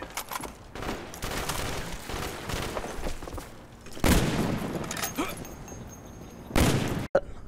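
Gunfire in the Black Ops 1 video game during a trickshot, loud bursts of shooting and impacts across several seconds, with a sharp heavy blast near four seconds and another toward the end.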